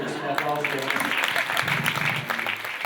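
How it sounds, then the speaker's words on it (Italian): An audience breaks into applause, a dense patter of clapping that keeps going for a few seconds while voices talk over it. "Un applauso."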